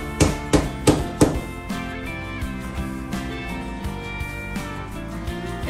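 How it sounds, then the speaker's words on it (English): Four sharp hammer blows driving expansion anchors ring out in quick succession at the start, then music carries on with no further strikes. "It's easier to hammer this in without the pin first."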